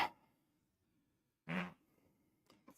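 A short, low, buzzy fart sounds at close range in a quiet room, followed by a faint rustle and a soft click.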